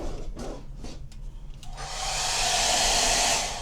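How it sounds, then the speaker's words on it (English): A hand-held blow dryer in a cruise ship suite switches on partway through, a steady loud broadband whoosh that follows softer rustling and handling noises. "This one has your blow dryer in it"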